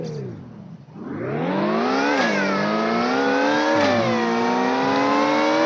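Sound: car accelerating in video game Car Dealership Tycoon

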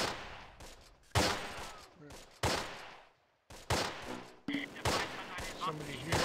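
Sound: gunfire in the video game Close Combat

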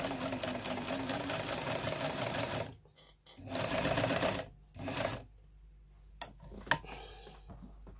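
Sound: Jones M 949 sewing machine stitching

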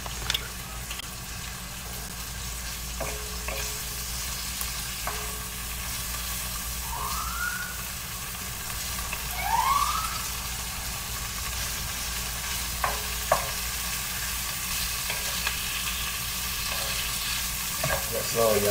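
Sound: meat sizzling in a frying pan

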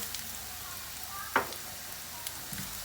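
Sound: vermicelli (şehriye) being fried in oil for pilaf

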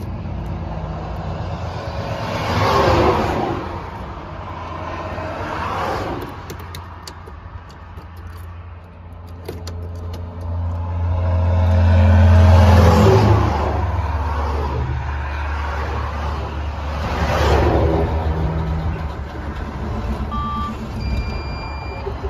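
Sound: truck engine running and revving

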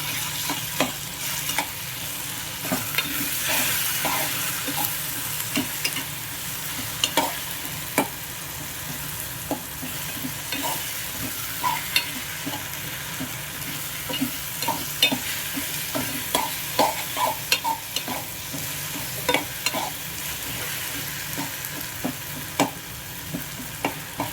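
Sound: tomatoes being stirred and frying in a pan

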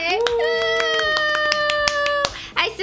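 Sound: hand clapping applause

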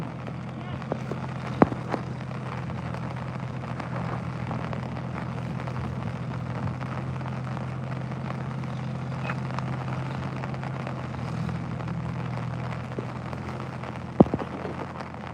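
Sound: heavy rain falling in Telangana fields

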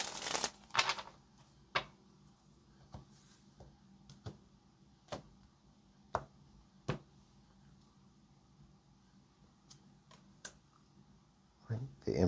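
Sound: shuffling a deck of tarot cards

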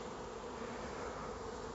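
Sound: honeybees buzzing in a hive

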